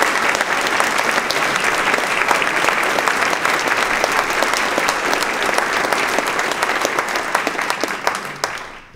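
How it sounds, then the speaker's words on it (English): An audience at a party program gives a round of applause, a dense sustained wash of clapping for several seconds that tapers off at the end. "How about one more round of applause for all the committee members who put this thing together."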